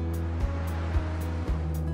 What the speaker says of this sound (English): When we look at the sea, there are always waves, some smaller or larger, like these